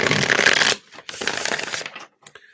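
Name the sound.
shuffling a deck of cards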